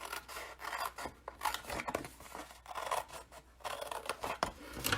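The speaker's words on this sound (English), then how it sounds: "use scissors and cut this top section right here" Scissors slicing through card stock at close range, a run of rough rasping cuts in bursts with brief pauses between strokes, heard alone with no talk.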